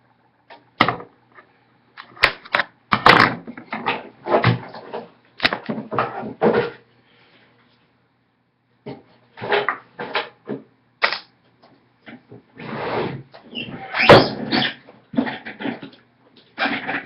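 Bathroom drawer stocked with skincare and makeup products being pulled open and rummaged through, giving a run of close, sharp clicks, knocks and rattles in bursts with a short pause midway.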